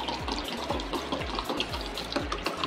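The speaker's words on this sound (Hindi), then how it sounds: "गिलास में डालेंगे नॉर्मल ठंडा पानी, नॉर्मल से थोड़ा सा ठंडा," Cold water pouring into a large drinking glass, a steady splashing and trickling stream heard close up with repeated gurgling pulses as the glass fills, no voices.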